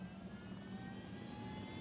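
Helicopter in Ghost Recon Wildlands, a steady droning engine whine with thin high tones, constant and fairly faint throughout, no voices.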